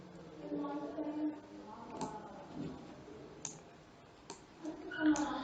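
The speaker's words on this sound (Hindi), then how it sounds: "यहाँ क्लिक करूँगा इस जगह" Computer mouse clicks during a Python programming lecture, a few sharp isolated clicks scattered among quiet background noise and faint room sound, close to the microphone.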